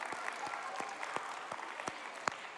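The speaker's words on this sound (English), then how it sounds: "Give him a big round of applause." A small audience at a Saturday children's show gives a quiet round of applause, with sparse individual claps standing out over a soft, continuous patter.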